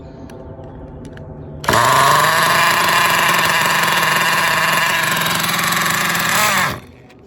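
A motorcycle engine starts up and idles loudly with a steady, slightly rough rumble for several seconds before cutting off abruptly.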